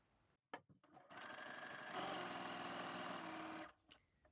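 Sewing machine stitching stretchy Bengaline fabric: a few short starts and clicks, then a steady whirring run of stitching for about two and a half seconds, fairly quiet and close.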